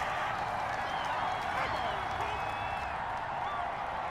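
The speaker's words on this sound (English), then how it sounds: "this crowd does not like that call. Understandable reaction from them." In the video game Madden NFL 21, a virtual stadium crowd reacts to a roughing-the-passer penalty call with a steady, loud wash of crowd noise and scattered whistles and calls, continuing evenly throughout.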